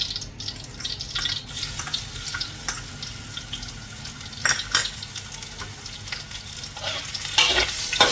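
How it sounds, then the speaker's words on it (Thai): Chopped garlic fries in hot oil in a pan, a steady close sizzle with scraping stirs and occasional louder bursts toward the end. "เราก็เจียวกระเทียมให้หอมๆก่อนนะคะ เจียวกระเทียมให้หอมๆ"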